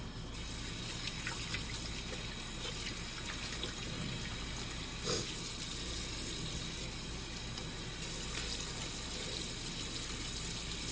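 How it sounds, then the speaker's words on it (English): Running tap water splashes steadily as someone rinses off a face cleanser, a constant close rush with faint hand splashes and no voices. "Rinse it off."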